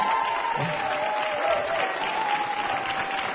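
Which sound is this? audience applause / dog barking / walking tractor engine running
audience applause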